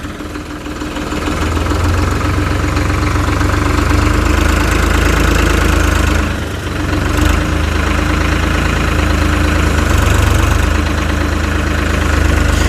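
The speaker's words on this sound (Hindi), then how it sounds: "लोडर आपको जो है ऑपरेट करके इसके ऊपर दिखा रहे हैं" A VST Shakti 9054DI tractor working a front loader on wheat straw runs with a loud, steady diesel engine drone and deep low rumble, dipping briefly before resuming at constant load.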